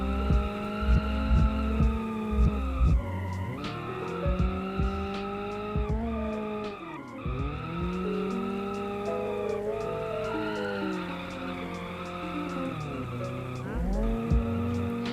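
A Miramar car with an upgraded engine drifts in the BeamNG driving game, its droning, revving engine note rising and falling under long, continuous tire squeals and skids, loud and close throughout.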